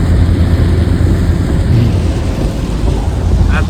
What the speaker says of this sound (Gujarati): એટલો વરસાદ પડે